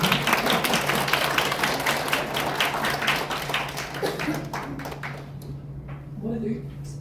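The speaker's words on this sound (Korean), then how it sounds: "다시 한번 박수." An audience at a care committee gathering applauds, a dense, steady clatter of many hands that thins out and fades after about five seconds, with a low hum underneath.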